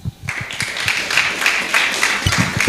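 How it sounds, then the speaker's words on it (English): An audience at a Kiambu National Polytechnic campaign event claps steadily for a few seconds, a dense patter of many hands at moderate distance, with faint voices beneath. "the claps that you've been giving are so mean"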